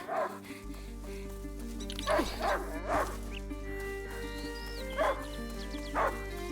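A hunting dog barks in short sharp bursts, several yips spaced a second or so apart, fairly close over a low steady hum.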